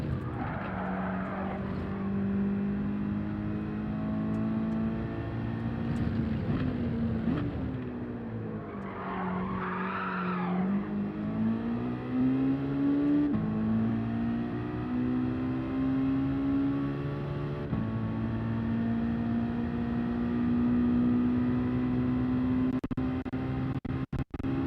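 A race car in Gran Turismo 7 drones continuously at high revs, its engine pitch rising and falling through gear changes and corners, with a brief tyre squeal partway through.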